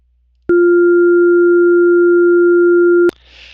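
Loud, pure, steady sine tone used as a partial for beat-rate ear training, starting and stopping with clicks and holding unchanged for about two and a half seconds.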